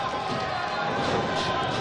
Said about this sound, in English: Now we see who the crowd's cheering for in this one